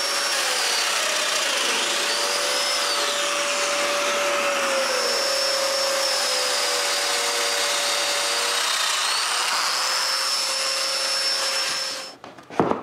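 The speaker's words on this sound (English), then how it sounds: "I mark where I should drill mortises and drill them" A steady power drill whines continuously for about twelve seconds, close and loud, with shifting pitch as it bites into wood drilling mortises, then cuts off abruptly.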